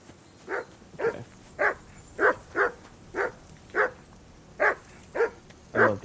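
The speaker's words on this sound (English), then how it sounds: "I assume you can hear that damn dog of yours barking." A dog barks repeatedly in Kingdom Come: Deliverance II, about ten loud, evenly spaced barks over several seconds with no talk.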